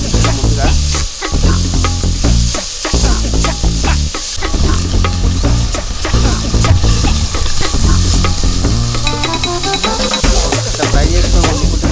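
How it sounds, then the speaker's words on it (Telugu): Dried shrimp fry in hot oil in a pan, a loud, dense sizzle with steady crackling and repeated stirring scrapes throughout, close up and without talk. "నూనెలో ఫ్రై చేసుకోవాలి మంచిగా."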